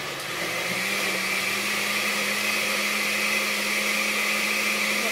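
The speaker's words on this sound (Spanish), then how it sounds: "Pero el ajo y la cebolla lo vamos a licuar juntos." A blender whirs steadily, liquefying garlic and onion together for a squash (ayote) cream soup, a continuous close motor drone with a constant pitch throughout and no voices.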